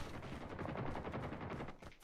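Sustained automatic gunfire from the Call of Duty Mobile video game, a continuous rapid burst of shots lasting about two seconds without pause.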